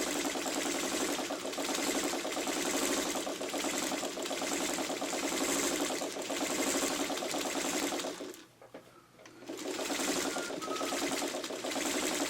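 A sewing machine top stitching appliqué circles runs steadily and close, a continuous whirring hum that briefly stops around the middle before starting up again.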